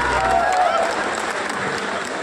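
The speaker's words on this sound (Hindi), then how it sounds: "आप भी जोरदार तालियां बजा के उनका स्वागत करें" An audience at a public stage event breaks into loud, sustained clapping, dense and close throughout, with a voice speaking over the applause.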